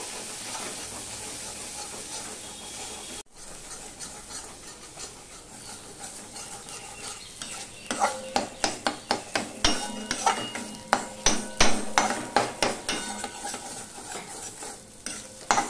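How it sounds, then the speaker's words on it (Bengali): Ghatkol stems with a pinch of turmeric frying in a pan, a steady sizzle at first, then rapid rhythmic scraping strokes of a spoon stirring continuously, close and clear. "দিয়ে সমানে এভাবে নাড়তে থাকবো।"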